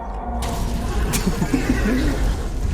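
A Trojan horse boss in a video game lets out a loud, wavering neigh over a constant game soundtrack, preceded by a sharp burst of noise.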